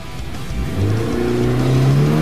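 A Chevrolet Niva's engine revs and pulls hard as the car drives into mud, rising in pitch and growing louder over two seconds, close and without speech.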